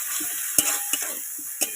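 Yogurt and ground spice masala with a little turmeric and sugar sautéing in a pan, a steady close sizzle broken by a few sharp spatula scrapes and knocks.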